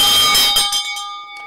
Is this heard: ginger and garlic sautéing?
no